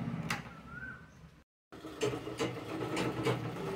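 Sewing machine stitching through the layered lining and patch of a blouse back neck, a steady mechanical whirr with rhythmic clicks that runs, cuts out briefly for a moment, then resumes at close range.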